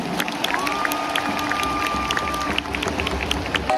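A crowd cheers and applauds at a baseball stadium, Lions Park, a steady dense roar of many people with scattered claps and shouts and a sustained high tone held briefly through the middle.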